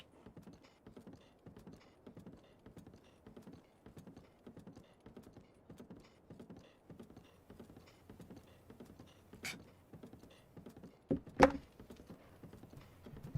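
Horse hooves clip-clop at a steady trotting rhythm along a road in Zelda Breath of the Wild, moderately loud and continuous, with a couple of sharp louder clicks near the end.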